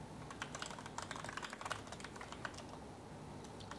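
Rapid clicking keystrokes on a computer keyboard during a Black Ops 2 session, an uneven continuous patter of close, quiet key presses with no talk.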